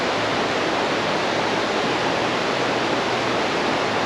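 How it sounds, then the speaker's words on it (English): Water cascades down over rocks beside a wooden bridge, a steady, full rushing roar that stays even and close for the whole stretch with no other sounds. "the water coming down, cascading off the rocks, and hear the sound."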